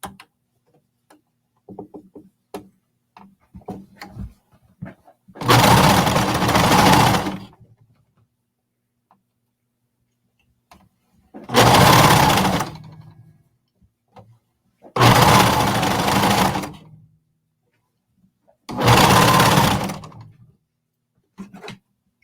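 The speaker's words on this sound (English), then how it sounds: "So I'm just going to use my cover stitch here." A cover stitch sewing machine runs in four separate bursts of fast, loud, close stitching, each about one to two seconds long. Between the runs come quiet gaps with soft handling clicks and taps, and no one speaks.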